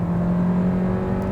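A 2021 Hyundai Kona N-line's 1.6-litre turbo engine pulling under acceleration, heard from inside as a steady droning hum with a rising tonal whine, continuous and moderately loud.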